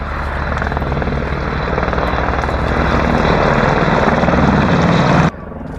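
A helicopter roars loudly and close by, its rotor thudding steadily for several seconds before cutting off abruptly.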